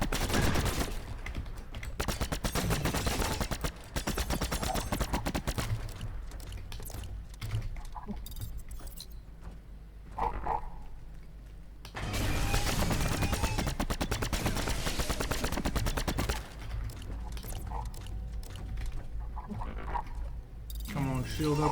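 Gunfire in the video game Signal from Tolva, rapid machine-gun bursts and fusillades in two long stretches, loud and close, with someone talking between them.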